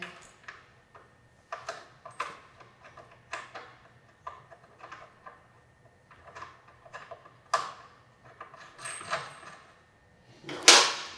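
Axle nut and washer being fitted on the front wheel of a Kawasaki Ninja 400, heard as a series of close, light metallic clicks, taps and scrapes in irregular bursts, ending with a sharper clatter.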